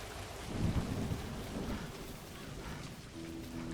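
Steady heavy rain with rumbling thunder in the Scottish highlands of the video game A Highland Song, a dense continuous wash with a low rolling swell early on and no voices.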